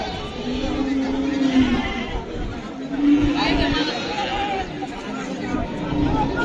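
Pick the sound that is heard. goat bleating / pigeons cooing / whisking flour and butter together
goat bleating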